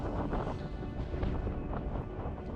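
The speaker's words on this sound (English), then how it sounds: "It's quite windy up here" Strong wind buffets the microphone on a mountain fell summit in the Far Eastern fells, a steady, loud roar with gusty rumble and no pauses throughout.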